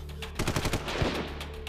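Rapid bursts of gunfire crack in a tight volley of several shots, then a few more scattered reports over a constant low hum.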